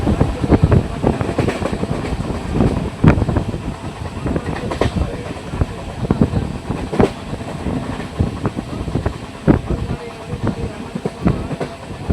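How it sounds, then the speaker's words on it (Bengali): A train on the Howrah–Purulia line runs through Gobra station without stopping, loud and close, with rhythmic clickety-clack wheel beats and rattling carriages over a steady rumble. "আমাদের ট্রেন স্কিপ করছে গোবরা স্টেশন"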